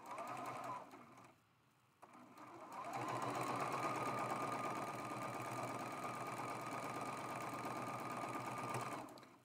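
A sewing machine stitches together the pieces of a zigzag squares quilt block, whirring briefly, pausing, then running in a long, steady rhythmic drone that stops at the end.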